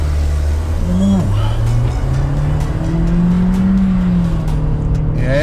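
A 2021 Nissan Kicks accelerating hard, its engine drone rising steadily in pitch up close and loud throughout, with a passenger's voice briefly heard over it.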